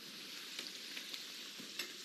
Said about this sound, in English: Now, they're frying up like any donut.